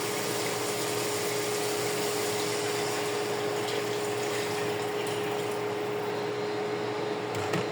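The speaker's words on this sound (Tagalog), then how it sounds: "Tapos, lagyan natin ng tubig." Water pours steadily into a cooking pot of chicken tinola being prepared, a continuous rushing, splashing stream that holds at an even level throughout with a faint constant tone underneath.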